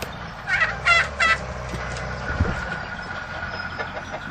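Turkeys gobble in three quick, bubbling bursts at moderate distance, over a low idling engine rumble and faint farmyard background.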